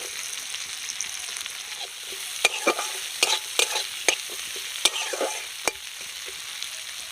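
Chopped onion and a dried red chilli hit hot mustard oil in a wok for a village-style crab curry, giving a steady close sizzle broken by several sharp spatula clinks and scrapes.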